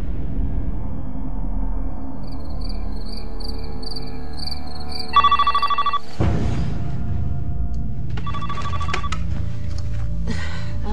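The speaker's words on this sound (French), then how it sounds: "J'étais couchée et le téléphone a sonné." A telephone rings with repeated bell-like trills in a bedroom at night, loud and alone; a steady background hum gives way to the ringing, with no talk.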